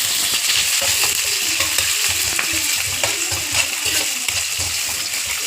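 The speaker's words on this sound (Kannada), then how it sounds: "ಎಲ್ಲ ಸ್ವಲ್ಪ ಫ್ರೈ ಮಾಡ್ಕೊಡೋಣ" Chicken frying in a pan at home, a steady dense sizzle with irregular clinks and scraping stirs running throughout, close and fairly loud with no talking.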